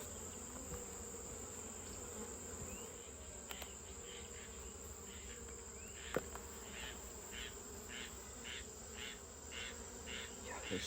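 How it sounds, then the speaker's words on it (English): Many honeybees buzz inside an open hive box during an inspection, a dense, steady drone that stays quiet and close, with no voices over it. "There's so many bees in here."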